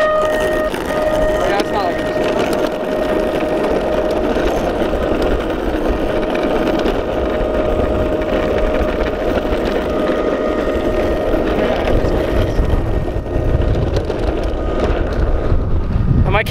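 A motorboat engine drones steadily while riding, with constant heavy wind buffeting the microphone and a thin whining tone on top that holds evenly throughout.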